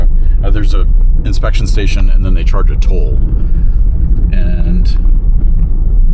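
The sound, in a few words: car driving along border fence road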